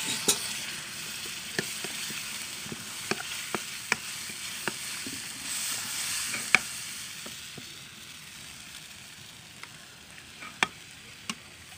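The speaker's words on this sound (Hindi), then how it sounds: "अभी इसमें मैं जो छाछ मैंने बेसन में घोली थी वो ऐड कर रही हूँ।" Taro root kadhi simmers in a pan as buttermilk mixed with gram flour is poured in, giving a steady soft sizzle with scattered light clicks of stirring and utensil taps.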